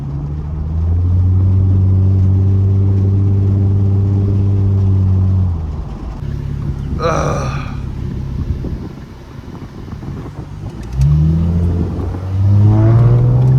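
A V6 Ford Mustang engine hums steadily while driving, easing off midway with road and wind noise, then revving up again toward the end.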